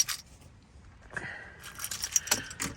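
Car keys jangle close by in short metallic rattles, a few bright clinks clustered toward the end, with no one talking.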